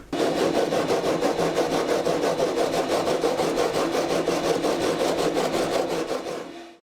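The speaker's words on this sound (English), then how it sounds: "a Permagrip block like this is absolutely fantastic for rubbing back to the line" An abrasive-paper Permagrip block rubs back the edge of a carbon fibre car bonnet in fast, steady back-and-forth strokes. The rasping is loud and close, then stops at the end.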